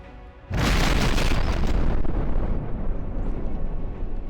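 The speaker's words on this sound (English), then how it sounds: "The sound of those cannons." Cannons fire in the naval combat game From the Depths: a sudden massive blast at once swells into a dense, rumbling roar of overlapping booms that rolls on and slowly thins.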